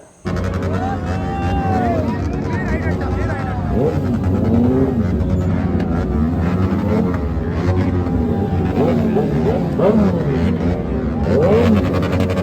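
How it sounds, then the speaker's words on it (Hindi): A ZX-10R superbike's engine revs repeatedly amid a dense crowd at a 15 August Independence Day event, rising and falling whines layered over loud crowd chatter. "और सामने एक सुपर बाइक आया, उसके लिए बहुत ज़्यादा भीड़ लग गया"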